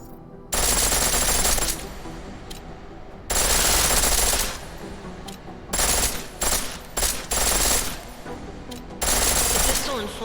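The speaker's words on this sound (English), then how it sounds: "The pistol in full auto will take down targets fast, but it'll burn through your ammo." Pistol fired on full auto in Deus Ex: Mankind Divided, several loud rapid bursts separated by short pauses, with quieter ambient game sound between bursts.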